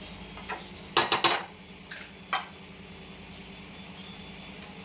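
Small fish curry being stirred in a pot, a few sharp metallic spoon clinks against the vessel, a quick cluster then scattered single taps, over a low steady hum.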